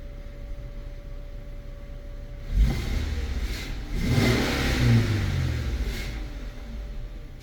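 2015 Infiniti Q50 engine revved from idle, with two rising bursts of revving that swell and fade back toward a steady idle hum, close and fairly loud.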